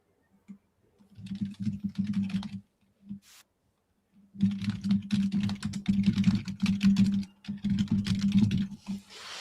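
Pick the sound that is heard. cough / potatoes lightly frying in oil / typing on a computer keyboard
typing on a computer keyboard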